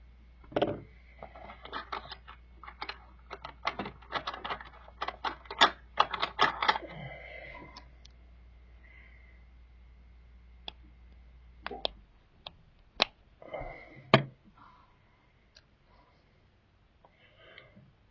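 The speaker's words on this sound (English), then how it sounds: "let's take this guide pin off, and we'll change it" A guide pin, plastic running through metal, is worked off an antique Tyco slot car, giving sharp small clicks and taps, dense and rapid at first, then sparse and isolated.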